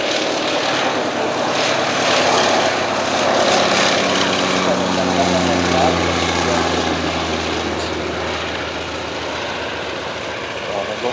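An Antonov An-2 radial piston engine drones at the Hahnweide Air Show 2013, a loud, continuous propeller roar that slowly shifts in pitch, with a public-address announcer speaking over it.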